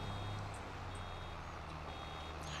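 Faint, evenly spaced reversing beeps sound over a low, steady engine rumble, as if from a large vehicle backing up, in the video game Farming Simulator 22.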